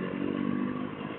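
KTM 390 Duke single-cylinder motorcycle on a test ride, its engine running slightly rough and uneven in the wrong gear, a steady close drone with light clatter throughout.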